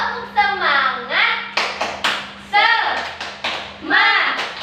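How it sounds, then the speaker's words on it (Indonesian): A class of Indonesian children clap an energetic classroom cheer in quick rhythmic bursts, mixed with chanted voices and a steady background hum. "Mari kita berikan tepuk semangat untuk diri kita sendiri"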